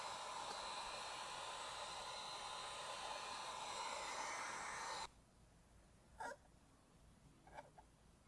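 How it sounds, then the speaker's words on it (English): A heat gun blows a steady, loud broadband hiss for about five seconds while softening the edges of retro vinyl side-panel wrap on a Ford Bronco, then cuts off abruptly, leaving two brief faint handling noises. "Put that heat gun again, soften those edges."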